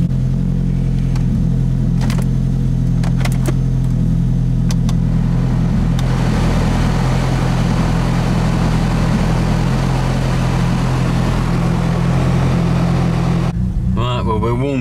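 A car engine idles steadily while warming up after a cold start, a loud continuous low rumble throughout with a brief rise partway through; the low hum stays constant to the end.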